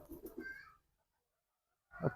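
Two male pigeons give soft, faint coos: a short murmuring call at the start, a silent pause, then a brief deeper coo at the end.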